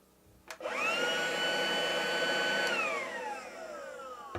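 A Hyundai HY2189 20V cordless leaf blower is switched on and whines up to a steady, loud electric motor and fan drone, then winds down as the trigger is released, with no one talking.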